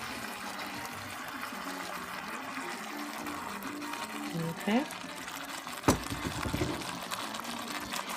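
Water poured into a pot of simmering chili, a gurgling splash rising briefly amid kitchen background noise, with a person talking nearby.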